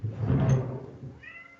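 A house cat meows once, loud and close, in a drawn-out, fairly low cry that fades, followed by a faint higher squeak near the end.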